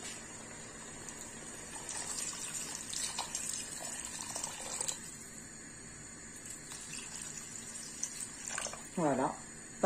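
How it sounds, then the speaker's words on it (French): Water poured into a cooking pot of spiced vegetables, a faint, steady splashing and trickling under quiet kitchen background noise, ending with a brief louder slosh. "je vais couvrir d'eau"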